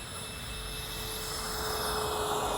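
A Freewing twin 70mm AL-37 RC jet flying a touch-and-go approach gives a steady, broad whooshing turbine roar with a high whine, growing slightly louder and heard alone.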